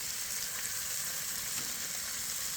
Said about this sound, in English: the bacon is still cooking. The grease is still cooking